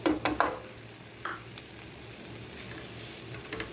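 Chopped onions fry in butter and spices in a pan, giving a soft, steady sizzle. A few sharp stirring clinks and scrapes come near the start.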